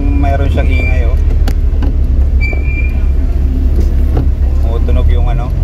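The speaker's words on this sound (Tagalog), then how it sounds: "may squeaking sound pag nagpe-preno." A car fitted with a Wilwood DynaPro big brake kit and 276mm slotted rotors squeaks thinly in short, rising chirps as the brakes are applied, heard close up over a loud rumbling engine and road noise.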